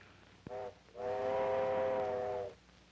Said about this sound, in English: Why, he wouldn't be on that train, Sam. It's come from the wrong way.